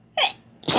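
A young girl sneezes twice in quick succession, up close and loud, with a short gap between the bursts.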